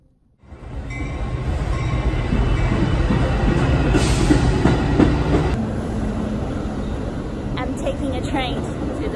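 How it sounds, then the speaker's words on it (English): Steady rumble of a moving train carrying a commuter to school, continuous and fairly loud, with a brief brighter rattle midway and faint squeaks near the end, under occasional talk. "Taking a train to the school."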